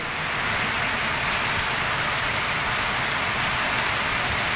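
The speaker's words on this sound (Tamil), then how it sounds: "கள்ளக்குறிச்சி மாவட்டம் சின்னசேலம் பகுதியில் 1 மணி நேரத்திற்கும் மேலாக கனமழை பெய்தது." Heavy rain pours down in Chinnasalem, Kallakurichi district, Tamil Nadu, a loud, dense, unbroken hiss of rainfall holding steady throughout.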